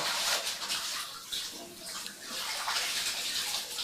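Water streams steadily from a tap, a continuous loud hiss and splash with no break, close by and uninterrupted.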